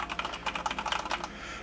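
Rapid, steady keystrokes on a Corsair K70 RGB MK2 gaming keyboard with Cherry MX Red switches, close and clear, with no talking.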